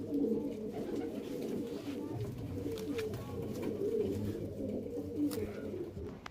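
Chandrakani Rampuri pigeons in a loft coo steadily, several birds' low rolling calls overlapping close by in a continuous murmur with no talk over them.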